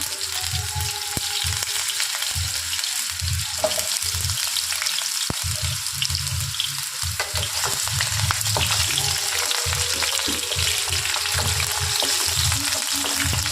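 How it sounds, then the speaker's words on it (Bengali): Diced potatoes frying in oil with cumin in a pan, a continuous close sizzle broken by repeated scraping stir strokes at an irregular rhythm, with no talk. "আলুটা একটু ভাজা হতে দিতে হবে"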